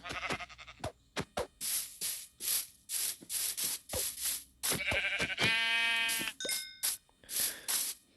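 Sheep in the Minecraft video game bleating in short, repeated bursts, mixed with game sound effects, a rising tonal chime and brief clicks across the passage, with no talking.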